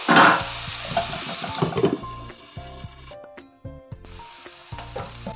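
Onions and other ingredients for a Kerala fish molly are stirred in a pan. A soft sizzle sits under intermittent scrapes and light clinks of the spoon against the pan.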